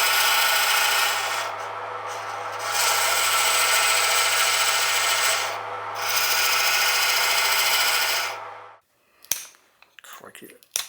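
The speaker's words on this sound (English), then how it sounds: "then over to the belt sander to tidy up the" A belt sander grinds the rear end of a wooden drawknife handle, a steady loud abrasive whir with two brief lighter dips while the wood is pressed and eased, then stopping, followed by a few scattered knocks and clatters.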